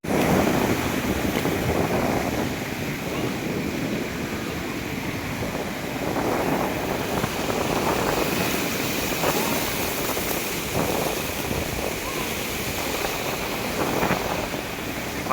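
Strongly gushing water makes a continuous rushing roar that swells and ebbs across the stretch, with buffeting wind noise.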